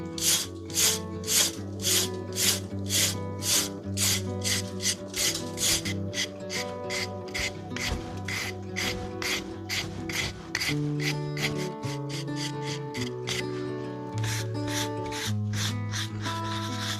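A stiff-bristled brush scrubs lime mortar pointing on a stone wall of a French farmhouse, rasping in quick repeated strokes, steady and close, with no voices over it.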